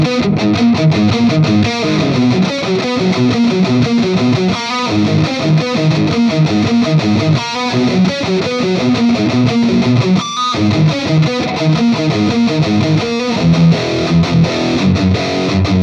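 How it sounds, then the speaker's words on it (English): A heavily distorted electric guitar plays driving chords and riffs through a high-gain amp with a drive pedal, loud and saturated, with brief pauses between phrases. "here's the amp alone without the drive, and then I'll kick on the drive"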